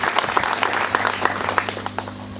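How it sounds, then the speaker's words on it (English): Applause from an audience at a girls' school golden jubilee celebration in Homa Bay County, a brief burst of dense, steady clapping with a low hum underneath. "Clap for yourself."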